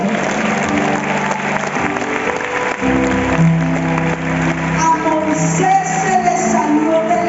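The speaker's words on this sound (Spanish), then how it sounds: "¿Cuánto le damos un aplauso al Señor?" Church congregation applause at a Spanish-language sermon, clapping for the Lord: steady crowd clapping mixed with sustained organ or keyboard tones and some shouts, moderately loud and continuous.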